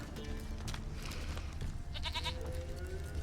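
A goat in The Witcher 3 video game gives a short run of bleats near the middle, set against a steady, busy game ambience with soft background noise throughout.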